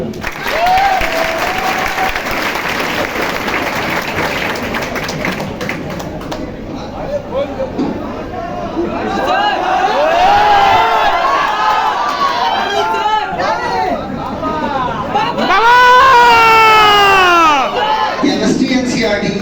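Students at a NEET coaching institute award event clap and cheer together, steady loud applause with whoops and excited voices rising over it, swelling near the end.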